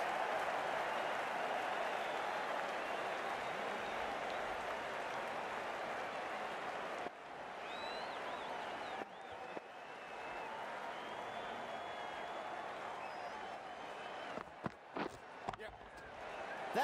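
At a cricket match, the crowd applauds a boundary four. The clapping and crowd noise are steady and moderately distant, with a commentator talking over them and a few sharp knocks near the end.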